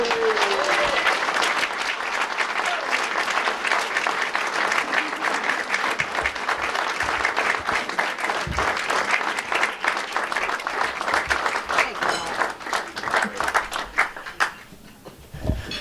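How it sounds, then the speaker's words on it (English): An audience at a chamber of commerce business appreciation dinner bursts into sustained applause, dense clapping filling the room for about fifteen seconds before tapering off. "How about a round of applause?"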